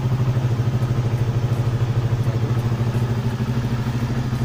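Yamaha R25 motorcycle engine idling steadily while warming up, a close, even low rumble with a fast regular pulse and no speech.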